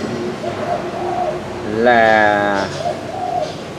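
A spotted dove coos in repeated soft phrases, including a rising, louder trilled call in the middle, close by, while someone talks over it.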